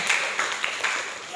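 Classroom applause for a student group, a short burst of scattered hand claps from a small crowd, moderately loud and fading after about a second.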